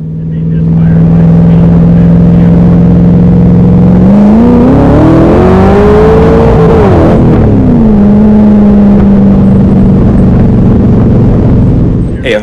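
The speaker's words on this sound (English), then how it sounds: "let's see if this thing will work at full throttle without the MSD and no misfire" A Cobra engine with a progressive ignition distributor runs very loud and close at full throttle. It starts at a steady roar, climbs in pitch as it revs, then drops back to a steady high drone.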